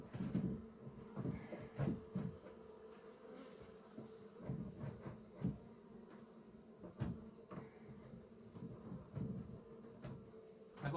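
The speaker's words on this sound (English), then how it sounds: "They're buzzing quite a bit." Honeybees in an opened hive during a spring inspection, giving a low, steady buzz close by with intermittent knocks and clicks from handling the hive, and no talking.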